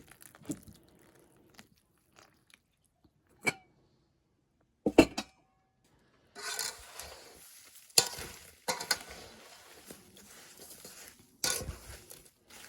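Intermittent scraping and clunking of a spoon stirring apples in a pot for apple-orange jam, sparse knocks at first, then denser stirring with wet rustles near the end.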